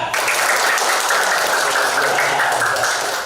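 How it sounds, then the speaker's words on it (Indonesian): Participants at a palm-oil token training session break into sustained applause, a thick, even clatter of many hands at close range, fading slightly at the end. "Tepuk tangan."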